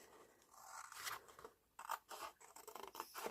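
Scissors snip through paper or thin card from a paracetamol box, a series of crisp close cuts with short pauses, alone with no talk.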